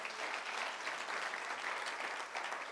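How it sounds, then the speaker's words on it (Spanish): A church congregation gives sustained applause, a steady, dense roar of many hands clapping at moderate distance with no break. "denle un aplauso al Rey"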